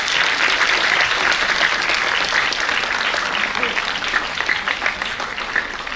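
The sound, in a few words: round of applause for sarangi player Ehsan Ali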